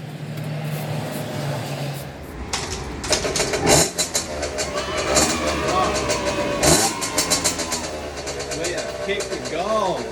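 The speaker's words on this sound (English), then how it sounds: "we've actually deadened any sound or just made a race bike make less power and same amount of noise" A motocross race bike with baffles fitted in its exhaust idles and then revs up in several close, loud blips, with voices talking over the engine.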